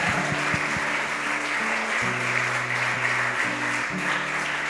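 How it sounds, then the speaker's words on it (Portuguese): A church congregation claps together in a steady, dense wash of applause, filling the room at an even level, with a low electrical hum underneath. "dessem uma salva de palmas por mais esse avanço da igreja"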